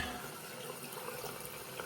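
Water runs steadily from a bathroom sink faucet into a newly installed drain, a soft, even rushing stream heard alone at low level.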